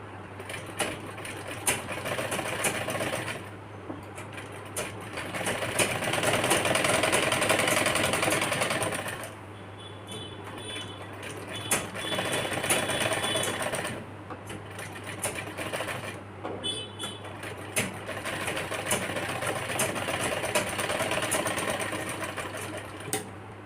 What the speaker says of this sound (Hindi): चिपकाने के बाद हम इस पे अब एक पैर की सिलाई लगा लेंगे